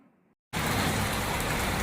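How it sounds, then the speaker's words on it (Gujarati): Steady rain pours down in a continuous, dense hiss that starts abruptly after a brief moment of near silence and stays even throughout. "વરસાદ આવ્યો છે ધીમી ધીમી ધારે પડે છે"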